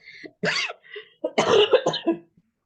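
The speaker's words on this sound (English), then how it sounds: "Yes, y'all, I still have a cough." A few sharp, raspy coughs in close succession, loud and near, with short gaps between bursts and no talking.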